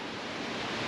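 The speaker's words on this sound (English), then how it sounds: "you can hear the sound of the river nearby." A river flows near an outdoor hot spring in Hakone, Japan, a steady broad rushing wash of water without pauses.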